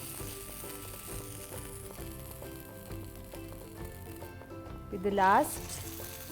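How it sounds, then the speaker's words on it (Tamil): Rava appam batter is frying in hot oil in a pan, giving a soft steady sizzle under a constant background hum, with a brief spoken remark and a short louder burst near the end. "இப்போ நம்ம என்ன பண்ணலான்னா இந்த மாவை ஒன்றுன்னா சேர்க்கலாம்."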